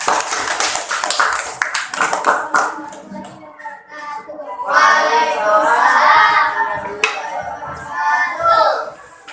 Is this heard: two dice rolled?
no